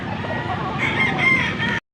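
Rooster crowing at a busy chicken market on a Saturday morning, one drawn-out crow rising over a dense, steady bed of clucking fowl and crowd murmur, fairly loud and close, ending abruptly.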